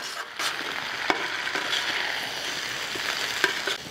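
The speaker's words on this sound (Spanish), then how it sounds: "aquí voy a ir bajando la papa. Y aquí lo voy a revolver todo bien" Potatoes for an alambre de papa are stirred in a frying pan, giving a soft, even sizzle dotted with light utensil clicks and scrapes, fairly quiet and without voices.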